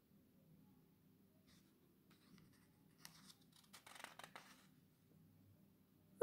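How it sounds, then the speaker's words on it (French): A pencil or pen scratches across paper in a quiet room, a short run of soft strokes in the middle before a sharp bump at the very end. "Barba Lala dessine les assemblages."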